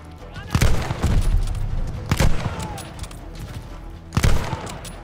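Gunfire from a weapon in Call of Duty Vanguard's El Alamein battle: three loud, punchy shots roughly two seconds apart cut through continuous battle noise with scattered distant firing.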